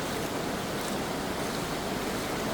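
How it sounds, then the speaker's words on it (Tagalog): Floodwater flows across a highway in Oriental Mindoro, Philippines, as a constant, fairly loud rushing wash with no voices. "Ayan o, ang baha dyan o."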